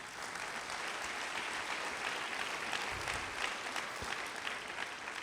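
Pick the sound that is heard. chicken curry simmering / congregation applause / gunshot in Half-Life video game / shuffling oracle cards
congregation applause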